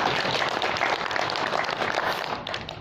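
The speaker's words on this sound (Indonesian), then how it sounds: "Tepuk tangan." A crowd of workshop attendees at a madrasah curriculum review event breaks into steady, dense applause that fills the room at full strength throughout, tailing off slightly at the end.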